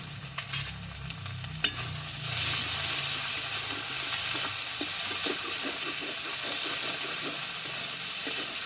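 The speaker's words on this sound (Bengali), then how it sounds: "দিয়ে মশলাটা একটু ভালোভাবে কষিয়ে নেবো" A spice paste of Kashmiri chili powder, salt and sugar sautéing in a pan. A few clinks and stirring come first, then a loud, steady sizzle takes over, with quick scraping strokes of the spatula close by.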